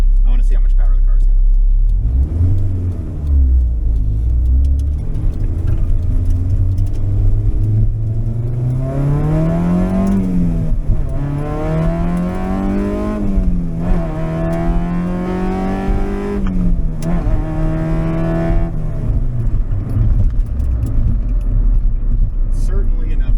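A naturally aspirated K-swapped Honda CRX accelerates hard, its engine climbing in pitch through the gears with short dips at each shift, loud and close as if from inside the car.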